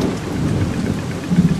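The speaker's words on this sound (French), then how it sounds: "Il pleut abondamment." Heavy rain pours in a steady dense roar with deep rumbling thunder underneath, loud and continuous in a cartoon storm scene.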